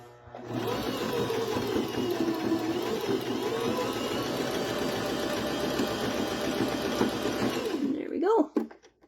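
A sewing machine runs continuously, stitching a triple stitch along a homemade fabric dog toy, with a steady close whirring hum that holds for several seconds before stopping abruptly near the end.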